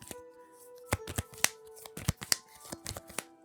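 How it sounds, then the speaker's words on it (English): Playing cards in Dragon Shield Water Dragon 2022 matte art sleeves are hand shuffled, giving a run of sharp, close riffling slaps and snaps in an irregular rhythm, with a faint steady hum underneath. "You can hear that great hand shuffle."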